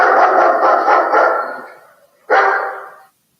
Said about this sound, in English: Whoa, that's a big scary dog right outside.